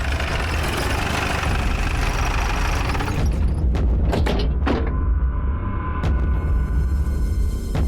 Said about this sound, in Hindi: ये तो विलास की बाइक है।